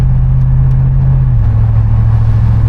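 A 2000 Chevrolet Tahoe on aggressive mud tires cruises at low road speed, producing a steady, loud low engine drone and tire rumble that shifts slightly lower in pitch midway, heard from inside the cabin without talking.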